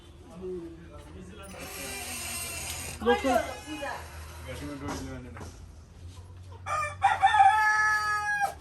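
Rooster crowing at a chicken market in Chitwan, two drawn-out crows rising over steady crowd chatter and people talking nearby.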